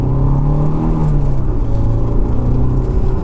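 Honda AP1 S2000 with a cable throttle, its engine droning steadily at high revs for a few seconds, close and loud, with no talking over it.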